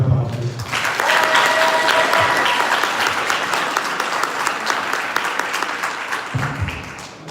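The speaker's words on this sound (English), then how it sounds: "Let's give them a round of applause, please." Sustained applause from a wedding reception crowd greeting the newly married couple, loud and steady for several seconds before tapering off, with faint voices underneath.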